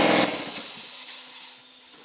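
Pressurized air hisses loudly from an opened valve during a Ford front differential service, a sharp burst that fades within two seconds.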